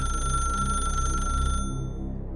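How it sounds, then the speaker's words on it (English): An old rotary telephone rings with a shrill, mechanical bell tone, loud and sustained, then cuts off abruptly partway through, leaving a low rumble. "Then the phone rang a third time."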